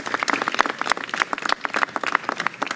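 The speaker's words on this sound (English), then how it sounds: "Give them a round of applause for all they did." Audience applause at a mayoral press event in New York City, a steady dense burst of many hands clapping close and loud for the whole stretch, with no talk over it.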